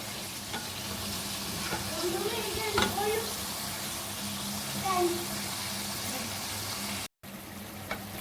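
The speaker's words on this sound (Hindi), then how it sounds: "अब मैंने इसको लहसुन अदरक और हरी मिर्चों के पेस्ट के साथ अच्छी तरह फ्राई कर लिया।" Steady sizzling of a garlic, ginger and green chili paste frying in a pan, with occasional scraping stirs and a brief dropout near the end.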